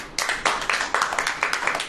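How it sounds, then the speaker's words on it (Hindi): A church congregation claps together in a steady, loud rhythm of sharp repeated bursts, the applause filling the room at close range. "अब ताली बजाएं।"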